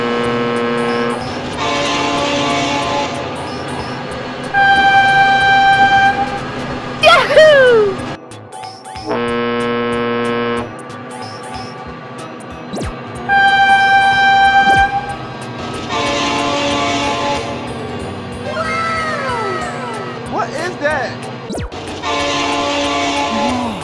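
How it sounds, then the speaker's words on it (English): Trains in the BeamNG driving game blast repeated loud horn calls as they pass, with heavy rumbling rail noise between the blasts and a few squealing high tones. "Oh my god, train!"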